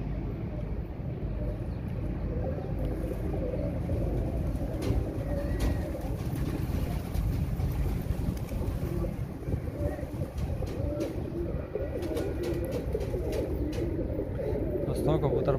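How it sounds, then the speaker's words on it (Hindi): Pigeons let out of their loft outdoors for a pigeon-keeping hobby session, with steady cooing and bird calls across a busy outdoor background, some faint distant activity and occasional voices underneath. "कबूतर बाहर आ चुके हैं"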